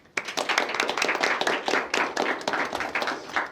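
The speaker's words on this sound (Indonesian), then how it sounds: "Oke, tepuk tangan semuanya." Students at a youth gathering of international university visitors clap their hands in a fairly loud, brisk burst of dense, irregular claps that runs continuously after a sharp start.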